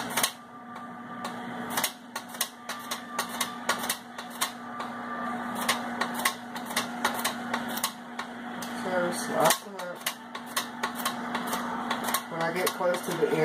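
Cucumbers sliced on a kitchen slicer, heard as rapid, sharp clicking strokes that come faster toward the end, over a steady background hum.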